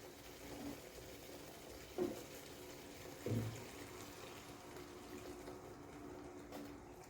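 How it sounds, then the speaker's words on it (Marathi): Water poured into a pot of simmering amti curry for puran poli, a steady close liquid rush running throughout with a couple of brief louder splashes or knocks, no talking. "तर मी सगळं पाणी ॲड करते आता त्यामध्ये."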